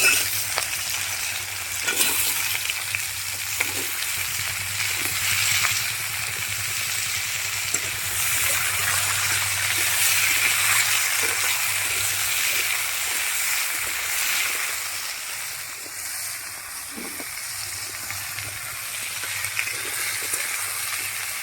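Potatoes and slit green chillies fry in a pan with a steady bright sizzle. A spoon scrapes and stirs now and then in soft knocks throughout.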